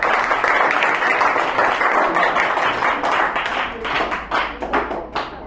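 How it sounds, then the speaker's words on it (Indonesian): A classroom applauds a presenting student group during a coding and artificial intelligence lesson: dense, lively clapping that thins toward the end into scattered, separate claps. "berikan tepuk tangan untuk kelompok 8."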